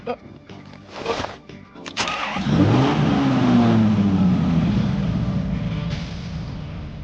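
Brief talk and a clunk, then a car engine cranks, catches and revs up loudly, settling into a steady rumble.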